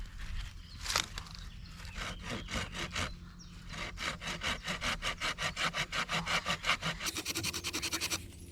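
Hand saw cutting wood during treehouse roof building, steady rhythmic back-and-forth strokes close by, speeding into a fast even series of rasping strokes toward the end.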